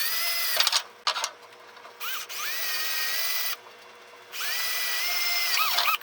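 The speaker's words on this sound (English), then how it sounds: "Using a small 1/8 inch drill bit." A small 1/8 inch bit drills into a thin cast iron exhaust manifold, giving a close, loud whining power-drill run in several bursts separated by short pauses, with no talk.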